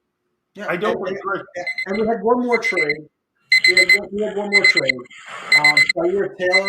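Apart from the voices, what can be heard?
alarm clock ringing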